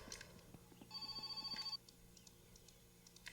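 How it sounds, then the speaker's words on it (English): A telephone rings in the video game My Summer Car, a single short electronic ring burst lasting under a second against quiet game ambience with faint clicks. "Oh, I'm getting a phone call."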